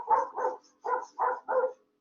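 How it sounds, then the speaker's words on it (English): Dogs bark at a neighbor using a weed eater, five loud, close barks in a quick, uneven run followed by a short pause and the start of another bark. "those are my dogs barking at the neighbor that's weed eating"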